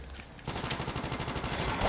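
Shots ring out in a Call of Duty Mobile battle royale match, a quick series of evenly spaced reports at moderate loudness that continues for under two seconds.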